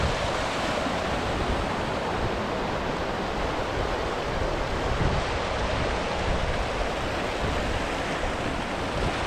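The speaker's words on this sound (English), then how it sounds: "look at the water running here." Fast-flowing water running at Lintrathen Reservoir in Scotland, a steady, loud broadband rush that holds constant throughout with no voices.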